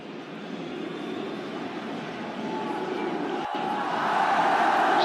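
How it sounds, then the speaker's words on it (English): Stadium crowd at a Greece versus Ireland Nations League football match applauding as the Greek captain and goal scorer is substituted, a steady broad roar that swells louder toward the end. "Enjoying the applause of the crowd, the Greek captain and goal scorer tonight"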